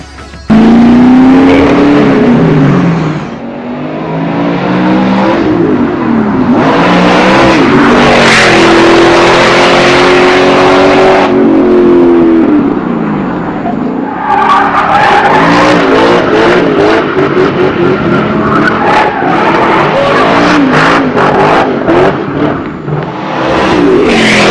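A Factory Five GTM supercar engine roars and revs loudly, rising and falling in pitch with throaty bursts, close by and continuous.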